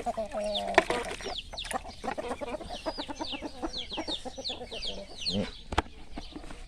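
Chickens cluck steadily through a mixed calcium-enriched feed being given out, with a rooster-like call among them. The birds sound close and busy, and a brief voice breaks in near the end.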